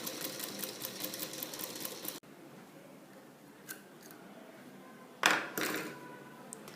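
A sewing machine stitches fabric, ending with a backstitch: a quick, close mechanical whir runs for about two seconds and cuts off, followed by a few faint clicks and short handling sounds.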